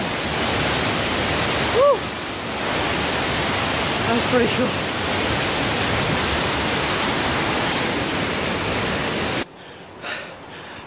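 A waterfall reached by hiking upstream in Canada, a loud, constant broadband roar close by that fills most of the moment before cutting away abruptly, with a voice cheering briefly over it.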